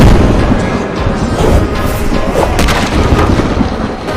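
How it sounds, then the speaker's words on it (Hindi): A loud, crashing thunderclap from a lightning strike in an animated horror comedy story, rolling as a dense, continuous rumble for several seconds without any voices. "वहाँ पर एक जोरदार बिजली गिरती है"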